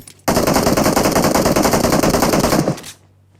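A loud, continuous burst of automatic gunfire from the mobile battle-royale game PUBG Mobile runs for about two and a half seconds, then cuts off abruptly, with no talk.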